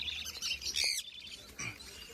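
A pet bird at the Srirampur animal and bird market gives a couple of sharp, shrill squawks close by, with a brief pause between the calls and faint background noise.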